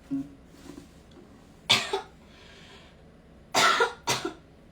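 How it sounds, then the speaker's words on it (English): Three harsh coughs, one on its own and then two in quick succession after a pause, close and fairly loud in a quiet room. "This cough has gone on for too long."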